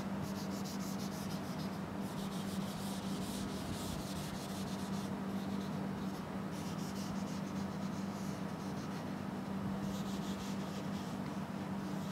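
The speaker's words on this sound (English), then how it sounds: "let me just erase the fuselage" Steady rubbing of an eraser across a board, wiping away a drawn wing and fuselage outline in a lecture room, a continuous close scratchy swish with brief pauses and a low background hum.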